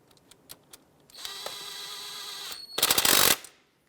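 A power tool snugs a bolt on a Ford Focus variable valve timing solenoid, a steady whirring run followed by a short, loud rattling burst as it seats, with a few faint clicks before it.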